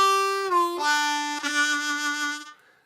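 A blues harmonica lick played up close, made of draw notes with a whole step bend that slides the pitch down before settling on lower held notes, then fading out.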